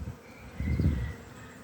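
Honeybees hum at the entrance of a disturbed hive, a close, low buzzing that swells for a moment and then fades.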